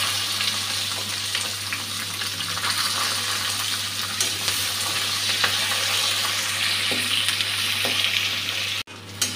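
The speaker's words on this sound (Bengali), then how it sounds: "পেঁয়াজটা ভাজা হয়ে গেছে" Onion fries in oil with cardamom, cinnamon, bay leaf and green chilli for a koi fish and potato curry, giving a continuous, even sizzle close up over a low electrical hum, with a brief knock near the end.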